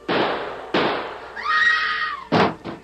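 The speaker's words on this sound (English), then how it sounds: "Great Scott! Shooting in old Eli's house." Gunshots ring out inside a house as a radio drama sound effect: several loud, close bangs with a whooshing ricochet-like whine between them.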